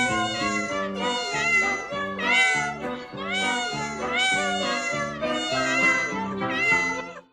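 Comic clip of several cats meowing in a steady, rhythmic run of harmonic cries, loud and continuous, set to a jingle-like pattern with no talk over it.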